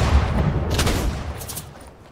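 A loud burst of rapid gunfire rattles out in a Fortnite match, a dense volley of shots that fades toward the end.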